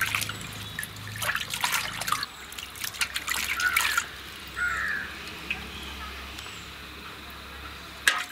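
Citron lemons are washed in water for a village-style pickle, with splashy trickles and drips in bursts, while crows caw nearby outdoors.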